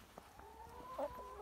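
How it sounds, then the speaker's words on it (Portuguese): A chicken bathing outdoors gives faint, drawn-out clucking calls, heard alone and at low level over quiet background ambience. "Tem uma galinha tomando banho ali."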